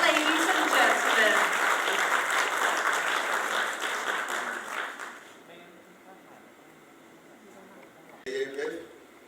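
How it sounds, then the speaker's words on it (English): An audience at the AFF Mitsubishi Electric Cup 2022 draw ceremony breaks into loud, sustained applause that fades out over several seconds, followed by near-quiet and then a brief voice over the room. "Big round of applause once again, ladies and gentlemen."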